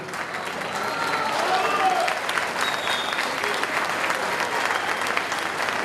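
Sustained applause from a university audience at an honorary doctorate ceremony for Álvaro García Linera, dense and steady, with faint crowd murmur throughout.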